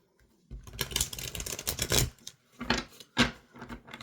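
Tarot cards riffle close up in a long crisp burst, followed by two shorter snaps as the deck is shuffled again.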